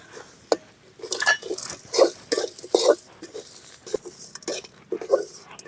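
Avarampoo flowers roast in a pan while a spoon stirs them in repeated scraping strokes, a close rhythmic rasp with small metallic taps between strokes.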